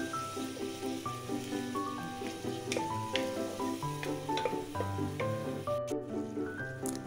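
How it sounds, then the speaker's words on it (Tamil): Ground mint paste sautés in a hot pan with green chilli for mint rice, giving a steady sizzle and crackle with scattered pops and occasional stirring scrapes. "நல்லா ஒரு 10 நிமிஷம் நல்லா வதக்குங்க"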